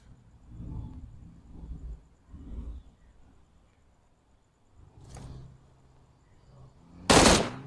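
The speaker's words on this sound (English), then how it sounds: "Yeah, I shot them with M16." M16 rifle fire in PUBG Mobile, heard as a short, loud, sharp burst at the end after a stretch of muffled game ambience and low thumps.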